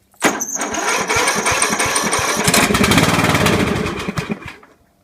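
A lawn tractor's OHV engine cranks with a rapid, uneven chugging, catches after a couple of seconds and runs loud and close at half throttle, then cuts off and fades.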